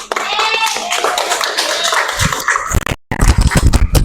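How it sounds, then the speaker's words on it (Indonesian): A classroom group claps together at close range, loud and brief, after a stretch of children's voices and noisy chatter. "Tepuk tangan untuk kita semua."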